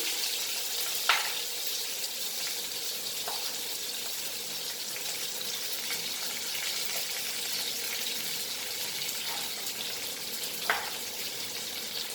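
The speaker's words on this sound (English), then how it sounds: "Now I will add my onion. Medium flame." Onion frying in a pan over a medium flame gives a soft, steady sizzle throughout, broken by two or three faint utensil clicks.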